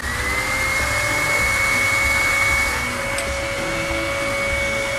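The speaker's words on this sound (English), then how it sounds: "I do a little blast with the blow dryer" Blow dryer blasting on low over a lace front wig, a steady loud whooshing hum with a constant whine that holds level for the whole stretch, no one talking.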